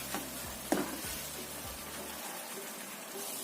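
Food being stirred in a frying pan while it sizzles, a seasoned snack mixture with sugar, salt and pepper. Scraping strokes sound over a soft steady hiss, then the stirring stops and the sizzle carries on alone.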